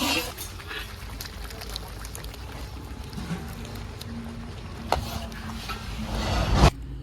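Spinach tipped into a spice masala roasted in ghee until the fat separates, for village-style saag, then stirred: clattering scrapes and knocks over an even sizzle, with a louder scrape near the end.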